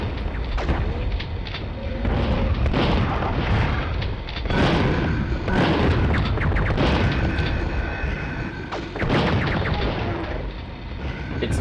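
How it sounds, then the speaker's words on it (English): Missile fire and explosions from enemies in the video game Duke Nukem 64, a series of loud booming blasts and rumbling impacts that repeat every second or two over a continuous roar. "And more big missile shooting guys are shooting at us."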